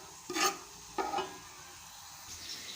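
Ginger garlic paste hits hot oil while vegetable macaroni is being cooked: two soft sizzling bursts with stirring scrapes, then a low, steady frying hiss, close but fairly quiet.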